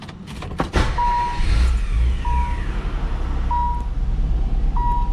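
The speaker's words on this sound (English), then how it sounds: "We're ready to start the car." A Nissan 300ZX Z32 fires up after an oil change and settles into a steady, low, close idle rumble, with a short electronic chime beeping at regular intervals over it.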